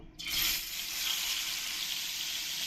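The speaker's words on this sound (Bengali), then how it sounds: "তেলটা ভালো করে গরম হয়ে গেছে এবার আমি এই বান মাছগুলো একটু ভেজে নেব" Pieces of baim eel fish dropped into hot oil in a nonstick wok set off a sudden loud hiss that settles into a steady, even sizzle, close and alone without any voices.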